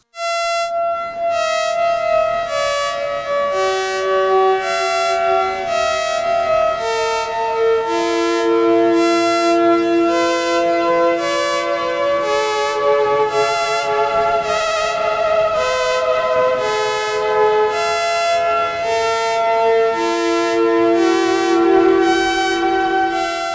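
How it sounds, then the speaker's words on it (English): A Make Noise Strega synthesizer produces droning textures with siren-like tones and rhythmic pulsing noise bursts, sustained and loud, layered pitches sliding between notes over a steady beat. "This is more of an experimental noise and texture making machine"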